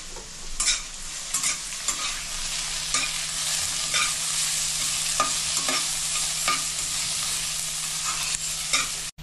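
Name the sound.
onions frying and stirring in a pan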